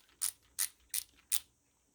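Four evenly spaced, crisp mechanical clicks from a ratcheting stubby screwdriver, close up and isolated in a quiet room.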